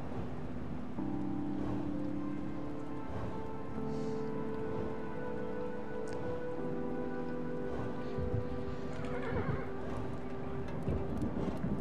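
A horse in the video game Kingdom neighs and whinnies repeatedly over steady rain and soft clip-clop hooves, with music tones running underneath.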